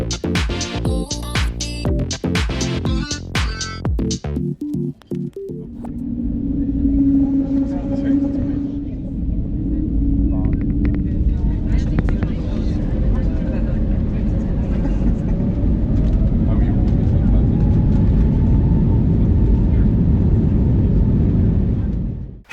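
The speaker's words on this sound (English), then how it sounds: "And now let's listen to the takeoff heading to the north." Lufthansa Airbus A321 taking off northbound from Berlin BER airport: cabin noise builds into a loud, steady engine roar with a rising whine that stays constant through the climb, heard from inside the aircraft.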